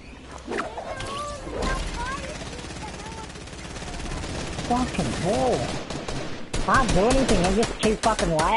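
Video game gunfire in an online shooter: bursts of rapid shots crackle through the clip amid other game sounds, with a voice talking and exclaiming over it.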